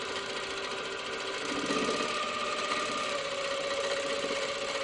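A sewing machine stitches a quilt block in a continuous, steady mechanical whir with a fast rhythmic needle chatter, close and even throughout, with no speech.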